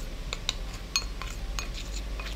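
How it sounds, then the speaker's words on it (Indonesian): Whisk or spoon clinking against a bowl while stirring a batter of rice flour, tapioca flour and salt for risol and martabak wrappers, giving a few irregular close taps over quiet background. "kemudian diaduk-aduk"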